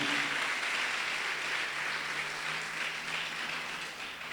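Church congregation applauding the Lord during a sermon, a steady wash of clapping from a crowd heard at moderate distance, continuous and even throughout.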